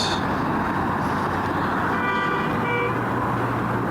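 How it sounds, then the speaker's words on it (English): Car horns toot over a dense, loud roar of road traffic, with several short honks and a longer held blast partway through, all under a constant rumble. "It's a lot of honking today."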